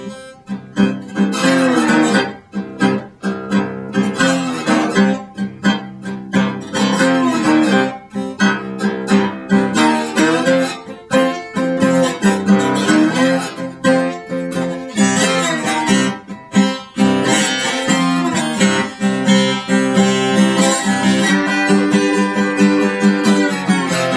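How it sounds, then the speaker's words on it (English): Slide guitar playing a 12-bar blues variation, loud and continuous with gliding, sustained notes and a busy full-band texture throughout, no talking. "That's a real common kind of blues sound"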